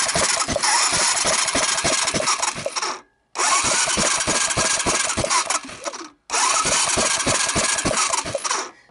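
A Honda Big Red 250 ATC cranks over on its starter from a jump pack in three long, loud bursts of fast rhythmic churning, with brief pauses between them and no firing.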